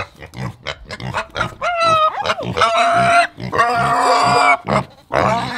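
Piglets squeal and grunt close up in a busy, overlapping chorus of high-pitched cries and snuffling oinks.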